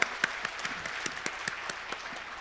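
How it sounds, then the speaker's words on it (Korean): A church congregation at a special dawn revival service claps in praise, a fairly faint crowd applause with distinct individual claps punctuating it at a roughly regular beat, no talking. "우리 하나님께 감사와 영광의 박수 한번 올려드릴까요?"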